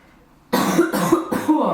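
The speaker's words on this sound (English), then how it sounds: "the cough is back" Three harsh coughs in quick succession, close and loud, each a short rough burst after a brief quiet start.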